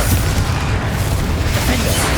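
A Confringo spell blast in Hogwarts Legacy gives a loud, dense, booming roar that fills the whole stretch with sustained explosive rumble, heard alone.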